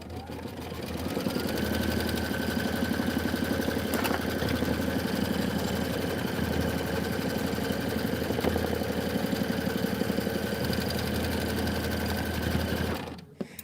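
A computerized embroidery machine steadily stitches an outline on a snowman block for a quilted pillow, its needle clattering in a fast, even rhythm for the full stretch before stopping abruptly at the end.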